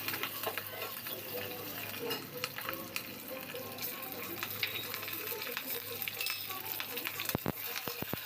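Ginger pieces frying lightly in a pan while preparing buttermilk punugulu, a village-style dish; a continuous soft sizzle with occasional stirring clinks and faint talk in the background.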